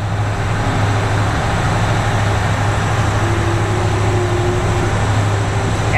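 The Upakul Express intercity train (712, Dhaka to Noakhali) runs in rain with a steady, loud rumble and low hum that holds constant throughout, with no voices.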